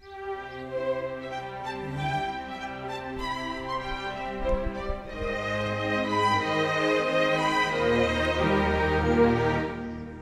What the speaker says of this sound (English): This is the sound of an orchestra.